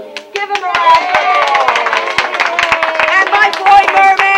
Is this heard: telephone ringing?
no